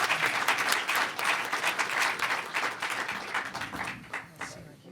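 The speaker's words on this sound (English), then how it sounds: "let's give a huge round of applause to our panelists" A conference audience applauds its panelists after a discussion session on scientists and the religious public, a dense, sustained round of clapping that fades toward the end.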